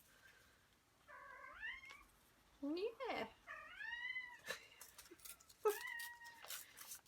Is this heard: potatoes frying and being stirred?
no